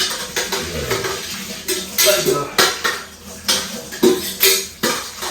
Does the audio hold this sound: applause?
no